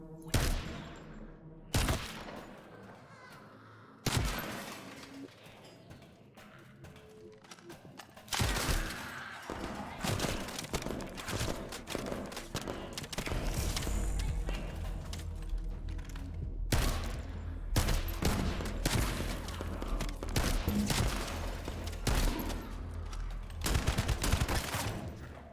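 Shotgun blasts and sniper rifle shots from The First Descendant video game, sharp bursts of gunfire in uneven clusters over loud game action and impacts, firing repeatedly after an opening few isolated shots.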